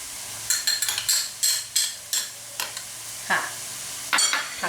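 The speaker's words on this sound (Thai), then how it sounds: "นี่ป้าก็จะเอานี่ค่ะน้ำพริกของเราลงไปผัดเลยค่ะ" Spatula scraping and clinking in a pan as chili paste is stir-fried with straw mushrooms in oil, a series of sharp metallic strokes over a quiet sizzle, close and fairly loud.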